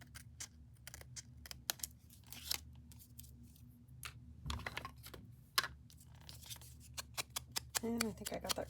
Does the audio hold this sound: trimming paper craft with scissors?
yes